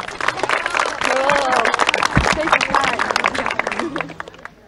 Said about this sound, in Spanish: nuestra selección del Trópico, un aplauso para ellas